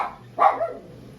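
A single close dog bark, one short sharp woof with a brief echoing tail, heard alone in a quiet room.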